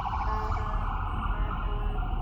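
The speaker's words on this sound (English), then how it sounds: "There's an ambulance coming." An ambulance siren wails steadily on a city street, a continuous loud tone over traffic rumble with no talking.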